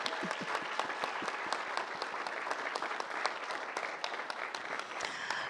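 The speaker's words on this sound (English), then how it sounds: "Please give them another round of applause." Steady audience applause for students at a debate event, a dense crowd of clapping hands with scattered sharper claps, sustained and fairly even for several seconds without speech.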